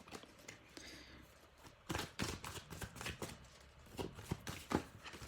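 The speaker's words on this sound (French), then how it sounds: "On va faire une petite coupe avec cet oracle-là." Oracle cards being cut and handled by hand, soft shuffling and scattered sharp taps and rustles of the deck close by, uneven in rhythm, with no talking.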